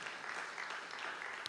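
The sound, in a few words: church congregation applauding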